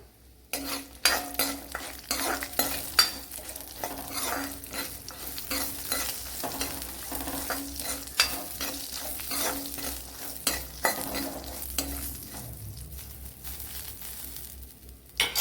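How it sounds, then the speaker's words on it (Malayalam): Cardamom, cloves, star anise and cashews frying in oil for a duck egg stew: a continuous crackling sizzle with frequent spoon scrapes and stirring clatter against the pan, close and moderately loud. "ഒരു 5 ഏലക്ക, 3 ഗ്രാമ്പു, തക്കോല, അതേപോലെ ക്യാഷ്നട്ട്, അത്രയും ചേർത്ത് കൊടുത്തിട്ടുണ്ട്. ഇതിനെ ഒന്ന് മൂപ്പിച്ചെടുക്കണം."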